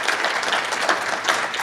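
An audience at a native storytelling award event applauds Reverend Will Hill, with dense, steady clapping from a crowd that swells briefly in places and carries on through the whole stretch.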